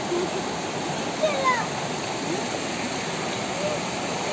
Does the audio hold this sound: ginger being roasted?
no